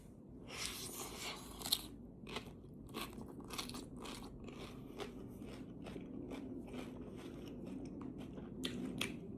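Crisp, close bites and crunching chews of a laab lettuce wrap, a series of sharp crackles repeating through the clip over a faint background, no talking.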